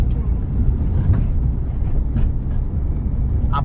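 Steady low rumble of a car engine running smoothly while driving in a driving-school car, with a little wind noise and faint voices in the background.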